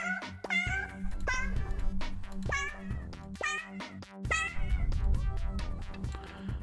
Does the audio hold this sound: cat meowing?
yes